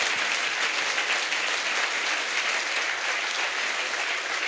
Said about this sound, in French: Let's clap to Lord Jesus.